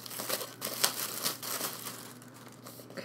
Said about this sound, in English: let me just see if I can't get a corner to rip this open